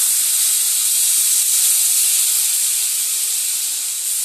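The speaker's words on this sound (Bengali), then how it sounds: "এবার কিন্তু আমি জল দিয়ে দেব।" Water poured into a hot pan of crab curry with potatoes sets off a loud, steady steam hiss and sizzle that fills the whole stretch without letting up, with no talking.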